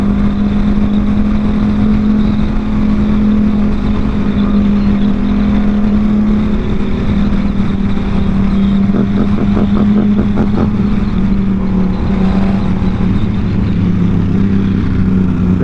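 Yamaha FZ07 motorcycle engine running steadily close by, a sustained droning hum that swells as the throttle is worked, with a brief stutter of rapid pulses midway, no voices.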